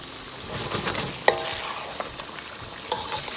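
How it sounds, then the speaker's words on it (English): Cilantro, green chilies and ginger are stirred and folded into sizzling grilled lamb chop karahi, a close scraping and clinking of a spoon over steady frying hiss, with no talk. "Fold it all in."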